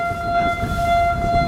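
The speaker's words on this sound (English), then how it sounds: "The sirens and alarms that you are listening to" Steady tonal sirens and alarms sounding at the Panama Canal locks in Colón as the rolling lock gates open ahead of a container ship, loud and continuous over low ambient rumble.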